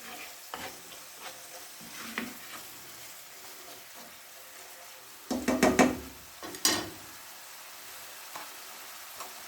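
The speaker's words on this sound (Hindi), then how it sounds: "इसको आपने अच्छी तरह से इसको फ्राई कर लेना मसाले को।" Masala fries quietly in a pan for spinach saag, a soft continuous sizzle punctuated by a louder burst of spoon scraping and stirring partway through, then settling back to a gentle crackle; no talking.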